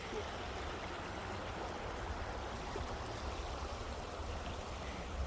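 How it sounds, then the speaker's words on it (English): A brook flows steadily behind a historic cemetery, giving a continuous, even rush of trickling water with no breaks and no voices over it. "Listening to the sounds of the brook is just so relaxing"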